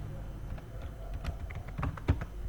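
Typing on a computer keyboard while entering MS Office into a search field: a short run of soft, irregular key clicks, close by, under faint room noise.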